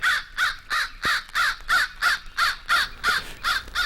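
A crow gives an alarm call, a rapid series of about eleven harsh, evenly spaced caws that are loud and close, with no talking.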